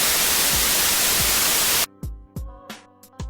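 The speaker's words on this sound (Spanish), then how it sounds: "lo ideal sería un radio desenfocado de estación con un volumen" Dense broadband hiss like a radio tuned between stations fills the first two seconds steadily, then cuts off abruptly into a few separate low thumping knocks.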